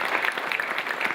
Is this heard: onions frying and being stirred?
no